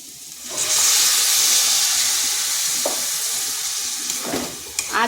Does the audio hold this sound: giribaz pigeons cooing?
no